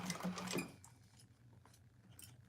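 A sewing machine stitching a bag lining around a curve makes a short close whirring burst, then quieter intermittent mechanical sounds as the fabric is handled.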